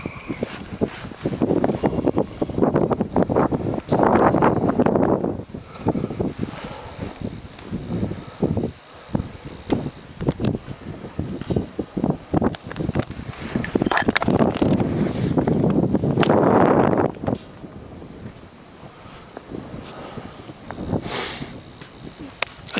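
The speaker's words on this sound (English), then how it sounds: "it's really windy" Strong gusts batter an outdoor microphone at night, loud buffeting roars rising and falling in waves with brief lulls, a voice speaking faintly between gusts.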